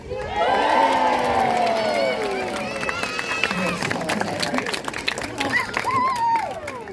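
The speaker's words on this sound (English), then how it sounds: "If he gets it, give him the biggest cheer." A crowd at a sea lion show in a safari park cheers and shouts loudly, with children's high-pitched cries rising over the roar and some scattered clapping, sustained throughout.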